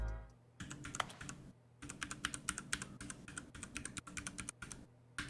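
Computer keyboard keys pressed in rapid bursts of clicky typing while testing every key except G in a frustrating game, close and fairly quiet with brief pauses between flurries.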